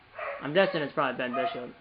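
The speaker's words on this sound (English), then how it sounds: "Sorry about that barking." A dog barks a few times in the background of a home while someone talks over it during an NHL 22 hockey video game session.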